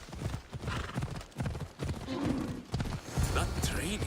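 Rhythmic hoofbeats of a horse galloping in the video game Assassin's Creed Odyssey, steady and fairly close, with a voice briefly mixed in.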